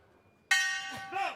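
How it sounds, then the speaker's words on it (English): A boxing ring bell at the AIBA Youth World Boxing Championships in Kielce, 2021, ends a bout with one sharp, loud clang that rings on with a slowly fading metallic tone, and a voice comes in as it dies away. "So there goes the bell."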